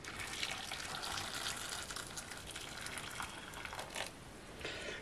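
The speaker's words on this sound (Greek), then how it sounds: "Θα καλύψουμε με νερό." Water gushes steadily into a pot of cut potatoes, a continuous splashing pour that eases slightly toward the end, close and unaccompanied by speech.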